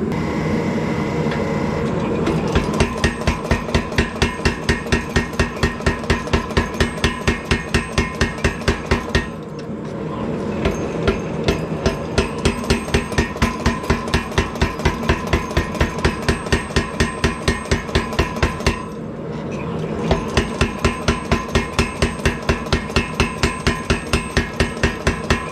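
A hammer strikes reheated hot steel to straighten a fantasy dagger blade. The blows are loud, evenly spaced and metallic, and come in three long rhythmic runs separated by brief pauses.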